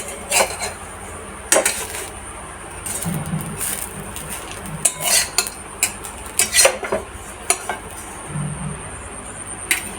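Pitha cooking in a frying pan beside milk vermicelli and tea, with loud metallic clinks and scrapes of a utensil against the pan as the cake is turned, scattered irregularly over a low background hum.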